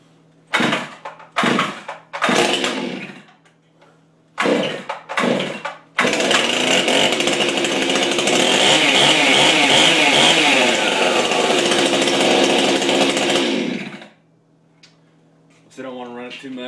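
A cold Stihl MS261 chainsaw is pull-started with several short sputtering tries before it catches and revs loudly and steadily for about eight seconds, then cuts out, with a voice speaking afterward.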